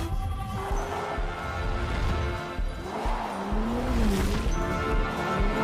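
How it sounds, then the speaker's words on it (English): Simulated internal combustion engine sound played through a car's cabin speakers, a steady engine-like drone with pitch that rises and falls, sustained and close for several seconds with no talking. "Doesn't that sound like a internal combustion engine for a second there?"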